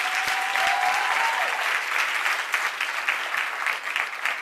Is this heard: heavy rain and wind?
no